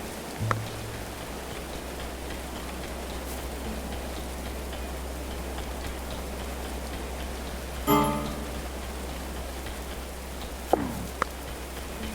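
Steady rain falls in the medieval colony-building game Going Medieval, a constant soft patter with occasional light ticks and a brief louder splash, heard alone without talk.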